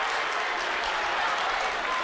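A loud crowd roars and applauds steadily at a Naugatuck versus Kennedy high school boys' basketball tournament final in Waterbury, a dense wash of cheering filling the gym throughout.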